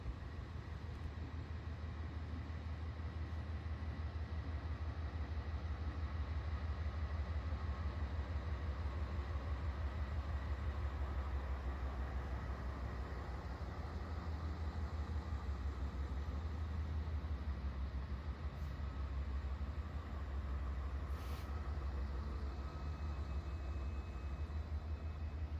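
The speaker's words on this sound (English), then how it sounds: "Next up is the eastbound intermodal with two older Union Pacific AC 44C6M rebuilds on the front and a somewhat clean SD70M." An eastbound Union Pacific intermodal freight train, led by two older AC44C6M rebuilds and an SD70M, rolls past as a steady, faint, continuous low rumble with no talking.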